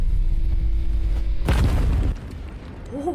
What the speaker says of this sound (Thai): โอ้เป็นการระเบิดพลังออกมานะครับทุกคน